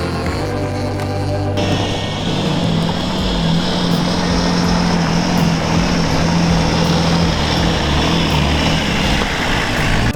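A restored Toyota Land Cruiser, once abandoned on a farm, drives a bush bridle track, its engine droning steadily and loudly throughout with a low, constant hum and rumble.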